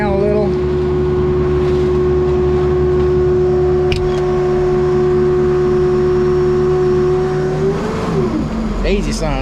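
A concrete pump's diesel engine idles steadily with a low, even hum and drone, then shifts pitch near the end as it is throttled down, with a worker's voice briefly heard.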